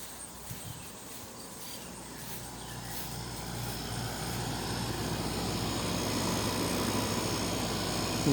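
A GE HVAC unit with a Samsung rotary compressor running: a steady, airy droning hum with fan rush that grows slightly louder over the stretch, with no speech.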